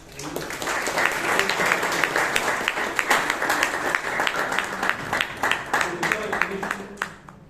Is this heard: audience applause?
yes